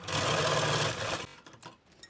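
A sewing machine runs a fast, loud, continuous stitch through blouse lining for just over a second, then stops, leaving a few light clicks and handling noises.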